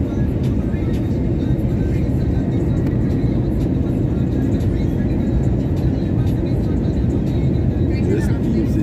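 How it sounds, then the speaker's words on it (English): A plane flies across toward an airport in Canada, its broad steady roar blending with road rumble from a moving vehicle, loud and continuous throughout, with voices talking over it. "Look at that plane over across there. Heading to the airport as well."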